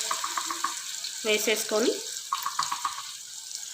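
Masala added straight into softened, cooked eggplants in a pan, with short bursts of sizzling and spoon-stirring clatter near the mic, while a person speaks over it.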